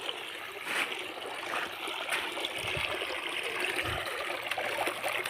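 Cold water runs steadily from a tap or stream, a constant hiss and trickle nearby with a couple of low gurgles and no talk.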